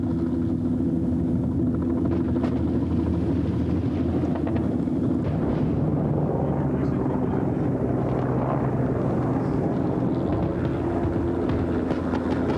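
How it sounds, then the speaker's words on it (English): Two Mi-24 helicopter gunships armed with rockets and cannon pass high overhead during fighting in 1980s Afghanistan, a steady droning rumble with a throbbing hum that stays constant. "two MI-24 helicopter gunships armed with rockets and cannon, flying too high for the SAMs"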